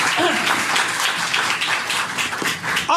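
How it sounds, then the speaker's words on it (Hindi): A church congregation claps in steady, dense applause throughout a sermon, the sound fairly loud and continuous with a few brief vocal sounds mixed in. "खुदावंद के जलाल के लिए ताली बजाएं।"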